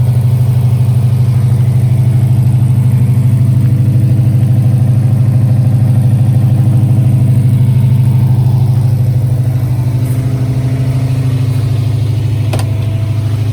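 A 1965 Ford Mustang Fastback idles on choke, a loud, close, steady low engine rumble with an even burble that eases slightly toward the end, no voices.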